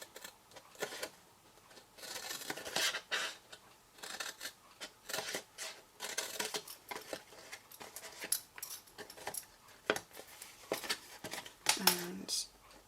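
Scissors snip and trim cardstock in many short, irregular cuts, some quick runs of clipping and some single snips, close by, while a person talks over part of it.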